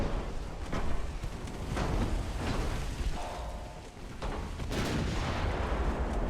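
Warships exchange fire with 7-inch guns and high-explosive shells in the naval game Ultimate Admiral Dreadnoughts, dull booming reports rolling in irregularly over a windy, rumbling sea backdrop, moderately distant, no talk.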